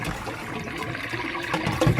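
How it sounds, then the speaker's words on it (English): Rinse water poured off freshly washed Jamaican callaloo greens, a short steady splashing and trickling close by with no talk. "just discard the water"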